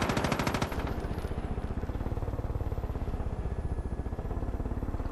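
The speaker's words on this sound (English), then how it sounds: "When I have this nice machine gun." A helicopter-mounted machine gun in the video game Far Cry 5 fires one continuous rapid burst, loud and close, with rotor noise underneath throughout.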